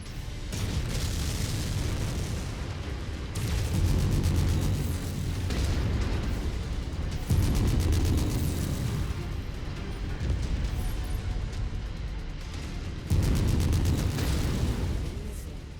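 In MechWarrior 5: Mercenaries, missile explosions on Sarna burst and rumble in dense, repeated waves throughout, loud and close, with brief gaps between barrages.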